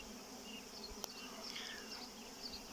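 Bees buzz around two beehives in a close, steady hum, with a few individual bees droning louder as they pass nearby.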